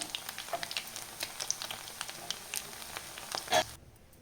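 Chicken kebab pieces deep frying in hot oil, a steady close crackling sizzle with scattered pops throughout, ending abruptly near the close.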